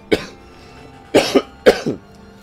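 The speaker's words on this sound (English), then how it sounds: "Sorry about the coughing." Someone who is sick coughs three times, close and sharp, the last two each a quick double cough, with quiet pauses between.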